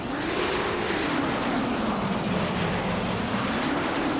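Hovering VTOL jet aircraft in Saints Row: The Third, a steady loud engine roar with a slowly wavering whine, heard alone without talk.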